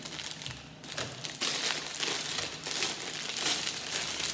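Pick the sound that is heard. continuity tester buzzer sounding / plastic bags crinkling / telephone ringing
plastic bags crinkling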